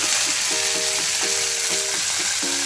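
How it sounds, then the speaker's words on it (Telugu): Four dried red chillies and curry leaves hit hot oil already holding mustard seeds and cumin for a tempering, giving a loud, steady, close sizzle that continues without talk. "తర్వాత ఇలా ఎండుమిరపకాయలు వేసేసుకోండి, ఒక 4 కాయలు, ఇలా కొంచెం కరివేపాకు"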